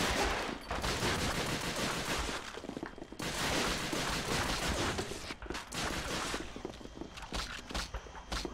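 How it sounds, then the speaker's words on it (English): Dense, continuous gunfire from Call of Duty: Finest Hour on PS2 rattles through a Western Front city battle, with machine-gun bursts and rifle shots layered over one another in a steady, fairly loud din. "There's some shooting going on."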